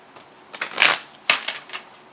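Tarot cards riffle and flutter in a few quick bursts, close up, with soft papery snaps between them.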